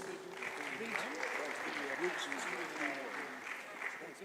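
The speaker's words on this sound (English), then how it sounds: "Another round of applause for our judges." Audience applause for the judges at a fintech pitch competition, steady moderate clapping across the whole stretch, heard at a distance under a voice talking throughout.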